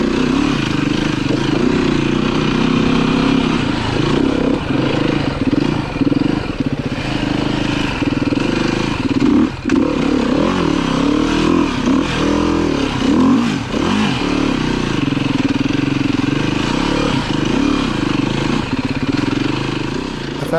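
A Beta 390 RR-S four-stroke dirt bike being ridden on technical trails drones steadily and loudly, its engine note rising and falling with throttle changes throughout, close to the microphone.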